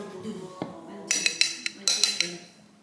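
A small spoon scoops barley wheatgrass powder in a home kitchen, giving several light metallic clinks and taps against a container, close and fairly quiet.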